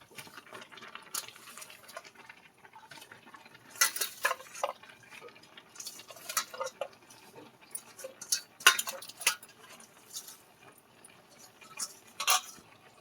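A utensil stirs pumpkin greens in a pot of cooked khesari dal, giving irregular clinks and scrapes against the metal with a few sharper knocks over a soft, steady background.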